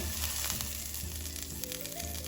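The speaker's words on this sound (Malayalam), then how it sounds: "ബട്ടർ ഇടണു." Butter sizzles steadily in a hot pan for chicken fried rice, a continuous close crackle and hiss with no talk.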